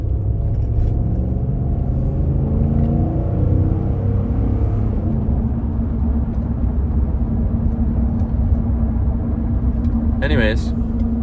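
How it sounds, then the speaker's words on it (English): A car rolls slowly along a road at about 15 mph where the limit is 35, giving a steady low rumble of engine and tires with a constant drone throughout and a voice talking over it. "This car is going like 15 miles an hour in a 35."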